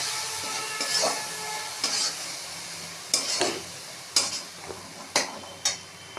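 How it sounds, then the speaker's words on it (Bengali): Masala frying in a pan with a little water while being stirred for a jackfruit curry, a soft sizzle broken by about seven distinct scraping strokes spaced roughly a second apart, close and without talk. "জল দিয়ে মশলাটাকে ভালো করে কষে নিলাম"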